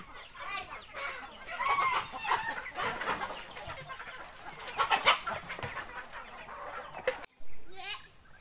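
Chickens cluck and call repeatedly in a village yard, some near and some farther off, with a few sharper squawks scattered through a busy outdoor background.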